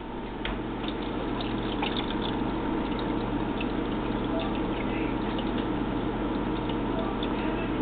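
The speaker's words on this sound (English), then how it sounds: "pour my water" Water pours into the reservoir of a Keurig coffee maker, a steady continuous liquid stream with a few faint clicks, close and moderately loud.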